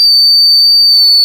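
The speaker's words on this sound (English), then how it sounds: "So I'll just blow the whistle" A steady, piercing whistle blast held for over a second to recall spaniels, loud and close, with no voices.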